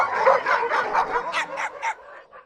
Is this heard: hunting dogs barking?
yes